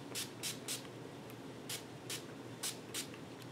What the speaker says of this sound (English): spray it with the Skindinavia